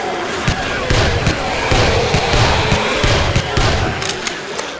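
Rapid gunfire in the zombie survival game 7 Days to Die, a loud, close run of sharp repeated shots in uneven bursts, mixed with game noise.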